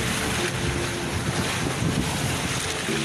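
Small fishing boat moored to a buoy and rocking on rough sea in strong wind, with continuous loud wind buffeting the microphone over a broad wash of waves, no talking.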